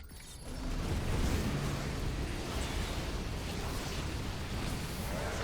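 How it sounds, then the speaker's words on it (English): Shadow cannon firing in StarCraft II, a heavy sustained blast that swells after a brief quiet start and rumbles on as a dense, noisy roar with crackling debris, loud and continuous. "The shadow cannon is really nice."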